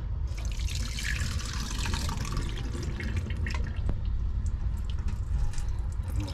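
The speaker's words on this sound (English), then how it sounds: "Now we pour these babies off into a sieve." King salmon roe being poured into a kitchen sieve, liquid running and dripping through the mesh in a steady close trickle with a few sharper drips, no talking.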